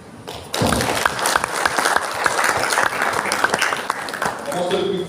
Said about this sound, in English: I want to applaud the team here tonight for what you've achieved.